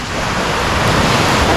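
Sea waves wash onto a beach at Dipaculao in Aurora, a steady, loud, unbroken roar of surf mixed with wind buffeting the microphone.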